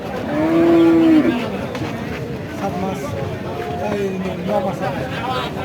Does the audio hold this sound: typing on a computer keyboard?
no